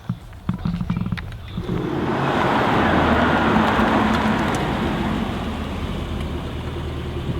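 A Mercedes-AMG car sweeps past with a loud, swelling engine roar that builds over a few seconds and then holds as a steady rumble, after a few sharp clicks at the start.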